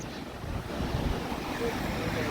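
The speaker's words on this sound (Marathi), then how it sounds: "या बघा लाटा." Waves break and wash steadily on a Konkan beach with strong wind buffeting the microphone, a continuous close roar with no distinct individual breakers.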